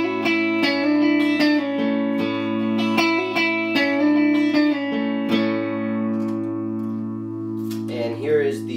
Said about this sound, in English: I am playing with this Telecaster into a Vox hand-wired AC-15, and I have a little bit of spring reverb from my Strymon Flint